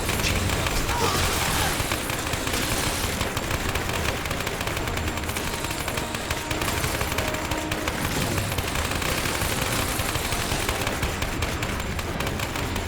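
Submachine gun fire in Lara Croft and the Temple of Osiris, loud, dense bursts rattling almost nonstop amid game explosions and effects, with a voice talking over parts of it.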